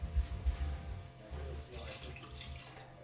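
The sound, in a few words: water being added to a cooking pot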